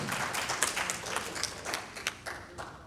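An audience claps at the end of a talk on the economics of housing and housing production. The applause is moderately loud, with scattered individual claps standing out from a steady patter.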